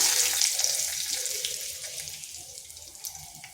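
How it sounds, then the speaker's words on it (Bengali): Whole cumin and a bay leaf sizzle in hot oil left from frying eggplant, a loud hissing crackle at first that gradually settles and softens, with no one speaking. "ওই তেলের মধ্যে দিয়ে দিচ্ছি গোটা জিরা, একটা তেজপাতা"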